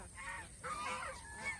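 Geese honk repeatedly on a goose farm during egg-laying season, several overlapping nasal calls in close, steady succession against a low background murmur.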